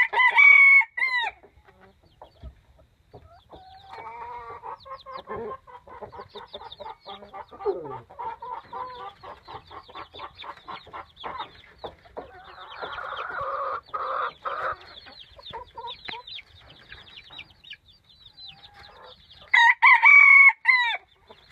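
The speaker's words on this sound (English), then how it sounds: "I have a rooster that parades himself like this every day" A small, fearless backyard rooster crows loudly at the start and again at the end, with softer clucks and chatter between the crows.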